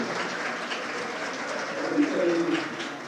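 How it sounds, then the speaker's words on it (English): Broad, noisy clapping from a conference audience at BIG 2022 fills the clip, steady and moderately loud, with a faint tonal murmur rising partway through. "If you'd like to applaud, that would be great."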